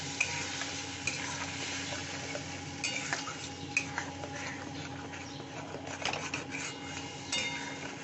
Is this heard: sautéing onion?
yes